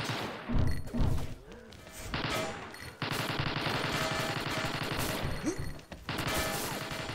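Gunfire in the XSHOT shooting game, rapid bursts of shots and impacts running almost continuously with crashes and thuds mixed in, fairly quiet overall and unaccompanied by talk.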